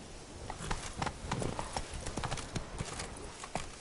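Roach the horse gallops in The Witcher 3, hooves clip-clopping in a fast, steady rhythm, close and clear throughout.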